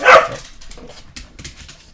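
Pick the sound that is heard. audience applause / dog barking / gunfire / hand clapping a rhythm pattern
dog barking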